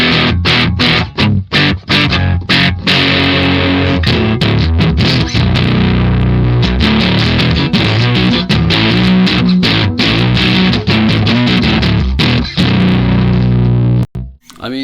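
Heavily distorted baritone guitar chords through a valve amp ring out loud and thick, strummed in bursts with short gaps, ending in a sharp stop.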